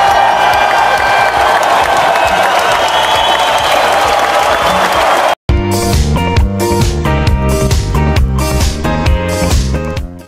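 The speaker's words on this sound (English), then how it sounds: "Let's give him a big round of applause." A school achievers assembly audience applauds and cheers loudly with whoops for about five seconds. The applause cuts off abruptly and gives way to loud music with a steady beat.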